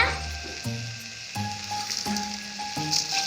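Pirandai (adamant creeper) with roasted urad dal sautéing in oil for a chutney, a steady close sizzle broken by a few soft clinks and stirring scrapes, with no voices.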